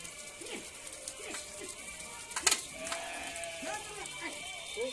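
Sheep in a Himalayan flock bleat repeatedly, several wavering calls from different animals scattered at moderate distance over a quiet outdoor background, with one brief louder clatter midway.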